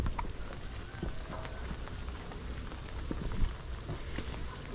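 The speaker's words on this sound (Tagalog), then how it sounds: "inabot tayo ng ulan mga bossing" Rain falls outdoors at Mirador Heritage and Eco Park in Baguio, a steady broadband patter with scattered sharper drop hits and a low rumble beneath, continuous throughout.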